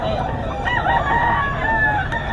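A rooster at a gamefowl sale gives a loud, close crow that holds steady for a couple of seconds, with faint voices and clucks underneath.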